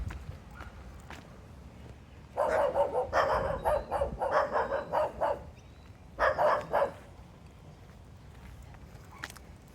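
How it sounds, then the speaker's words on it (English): Two small dogs bark fiercely to guard their territory beside an outdoor street in Canley Vale, Sydney, in two loud clusters of rapid, overlapping yaps separated by a quiet pause, with faint footsteps between. "Two cute little dogs protecting their territory."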